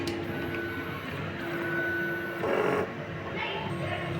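Large format sublimation printer running a head clean cycle, a steady mechanical whir with a constant tonal hum and a brief louder pump-like burst partway through, close and continuous.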